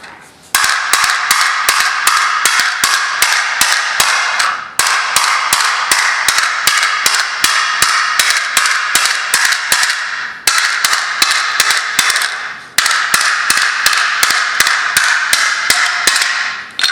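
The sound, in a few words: hammer striking cooled object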